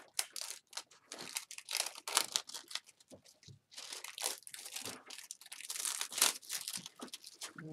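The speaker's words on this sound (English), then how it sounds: "So if I take it out of the plastic," An e-cigarette is pulled free of its plastic wrapping, with loud close crinkling, tearing and crunching in rapid bursts across the whole stretch, with no voices.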